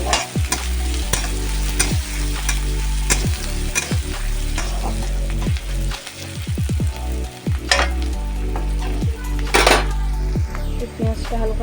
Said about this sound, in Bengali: এর মধ্যে আমি পেঁয়াজ কুচিটা একটু ভাজা ভাজা করে নেবো, হালকা করে